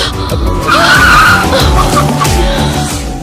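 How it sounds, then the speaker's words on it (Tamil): A car brakes hard and its tires skid and squeal in a loud, sustained screech lasting a few seconds, with engine noise beneath. "நீதான் பிரேக் பண்ணு, பிரேக் போடு"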